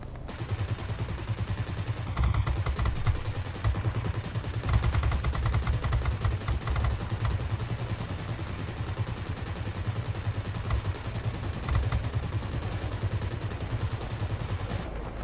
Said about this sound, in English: was that nasty person shooting at me?